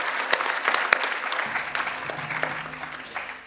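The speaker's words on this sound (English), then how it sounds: "I think that deserves a round of applause." A conference audience marking the 40th Indonesia Update claps in a sustained, moderately loud round of applause, with a low hum underneath.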